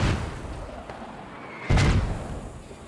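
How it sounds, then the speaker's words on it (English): A mortar round explodes in the military shooter game Squad: faint thuds give way to one loud, sharp boom midway that rolls off as a fading rumble, with no voices. "Mortars are a little off the mark."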